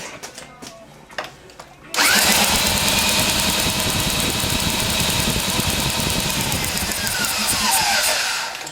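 A Yamaha 3 HP outboard motor with a wet cylinder spins over loudly and steadily after a short stretch of quiet handling noises, with a rapid, rhythmic mechanical chugging that holds for several seconds.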